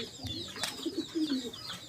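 Pigeons kept for sale, including cheap running birds, cooing softly in a short, close burst of low throaty coos with faint chirps behind.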